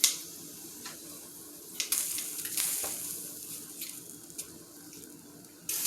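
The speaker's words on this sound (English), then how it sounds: "There's boiling water right now." Water boils in a pot on the stove while chitterlings and hog maws are prepared, giving a steady bubbling hiss with scattered louder pops and splashes, close and without talk.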